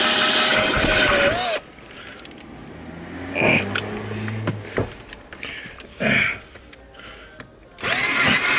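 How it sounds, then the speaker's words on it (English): A power drill bores a hole through the body of a Nissan R33 Skyline GTST with the carpet and sound deadening pulled back, a loud whining burst at the start and again at the end, with quieter scraping and handling in between. "Pretty crazy to drill this."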